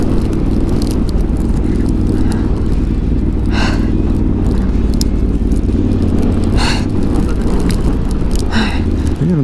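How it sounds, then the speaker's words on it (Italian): Wind-driven sand batters a motorcycle helmet while riding, heard as a loud, steady roaring rumble of wind and engine with hissy gritty bursts on top. "Io non so se sentite il rumore della sabbia che batte sul casco tramite il microfono."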